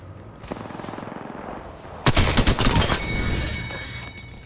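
Gunfire in the battle-royale video game Apex Legends: a steady rapid automatic rattle, then a louder burst of close shots with heavy booming impacts that rings out into a sustained roar, loud and dense, with no talking.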